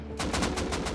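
Rapid automatic gunfire in the video game Rust, a burst of about six quick, evenly spaced shots lasting under a second, loud and close with no talking over it.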